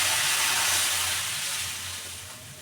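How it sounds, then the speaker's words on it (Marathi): Hot water poured into a pan of frying black masala with ginger-garlic paste for a rustic Maharashtrian patwadi curry, giving a loud, steady steamy hiss that slowly fades. "तर गरम केलेलं पाणी टाकून घेते."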